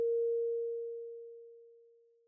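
A single pure, sine-like ear candy synth tone in a rap and R&B beat, struck once and left to ring, fading slowly and smoothly over about two seconds, alone and fairly quiet.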